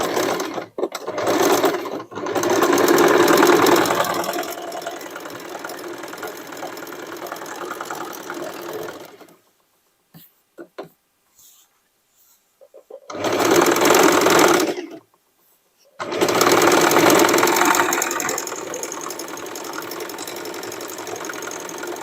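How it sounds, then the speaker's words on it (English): A sewing machine runs a triple zigzag stitch through denim, humming loudly in long steady bursts separated by short quiet pauses, with a few isolated clicks in the gaps. "I will make my triple zigzag here just to fix the pieces well"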